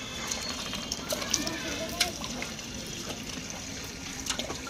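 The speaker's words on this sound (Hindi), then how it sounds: "तो इन्हें आज पानी डालती हूँ मैं" Water poured onto potted plants at home, heard as a light splashing trickle with small irregular drips and splats, close and fairly faint, with a voice faintly in the background.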